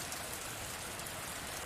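Steady rain falls in a dense, even patter across the whole clip, a soft continuous wash with no voices or other sounds.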